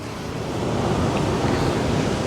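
Rough surf pounds steadily on Slapton Sands beach while strong wind buffets the microphone, a dense, unbroken roar with no pauses, close and loud throughout.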